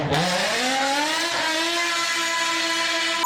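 A Lexus LFA revs hard, its exhaust note climbing quickly in pitch, then holding a loud, rich, steady howl close by for a few seconds before cutting off abruptly.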